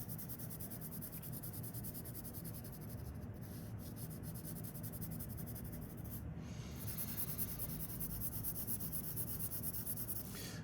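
Soft 2B graphite pencil shading skin tones on paper with light pressure, a quiet, continuous scratchy rubbing of close strokes that goes on without a break, with no talk over it.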